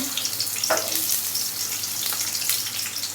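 Chopped onion and green chillies frying in a little oil for pumpkin bhaji, a continuous close sizzle with scattered crackles and a brief stir or clink, no talking.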